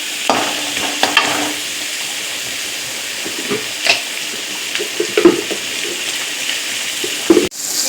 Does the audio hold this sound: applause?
no